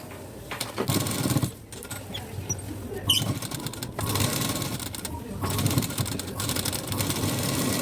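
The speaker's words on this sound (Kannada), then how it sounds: "ಗುಬ್ಬಿ ಪಟ್ಟಿಯನ್ನು ಫೋಲ್ಡ್ ಮಾಡಿಕೊಂಡು ಸ್ಟಿಚ್ ಮಾಡಿ" Sewing machine stitching a folded strip for a Sabyasachi-style blouse front, a soft rapid patter in several short runs with pauses, a voice faintly underneath.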